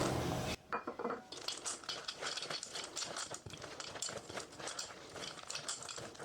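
Brown sugar, cocoa powder and chocolate chips being stirred together in a bowl, with a utensil scraping and clinking against the sides in a busy, continuous run of close, moderately loud strokes.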